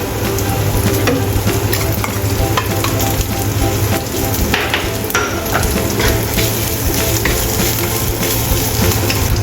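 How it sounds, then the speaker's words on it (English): Chopped ginger and fried shrimps are stir-fried in a pan, giving a loud, continuous close sizzle with scraping stirs and light clatter throughout. "Stir-fry chopped ginger. Add fried shrimps and stir-fry."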